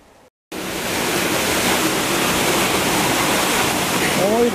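Cold spring water rushing at Las Grietas de San Pedro, a broad steady hiss of flowing water that starts abruptly after a brief silence and stays loud and constant, with a faint voice near the end.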